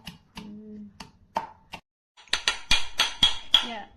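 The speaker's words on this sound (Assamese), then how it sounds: "আদা নহৰু জলকীয়া মিক্স কৰি অলপ থেতেলিয়াই দিছোঁ" Ginger, garlic and chilli are crushed together for a mutton curry: a run of sharp, hard pounding knocks, sparse at first and then rapid and loud, with a voice briefly heard early on.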